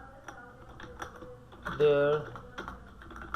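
Light, irregular clicks of fingers typing on a computer keyboard sound close and fairly quiet, with a brief louder tone near the middle and a single spoken word.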